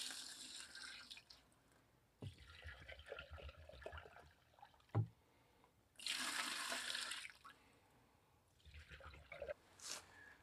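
Gasoline is poured and rinsed through a bucket while preparing traps for speed dip, giving intermittent splashing liquid pours with quiet gaps and small knocks, fairly faint and with no talking.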